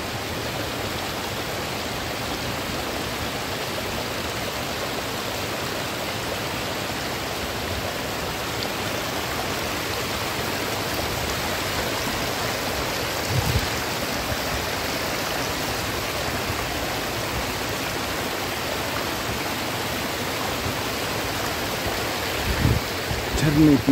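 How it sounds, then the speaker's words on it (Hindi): Steady, broadband rushing water fills the whole stretch, like a waterfall nearby, constant and loud with no pauses. "झरने की आवाज"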